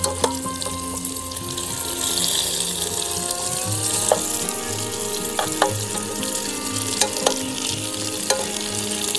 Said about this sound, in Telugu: అలాగా ఒకవైపు ఫ్రై అయితే ఇంకోవైపు తిప్పుకోవడం అలా చేయాలి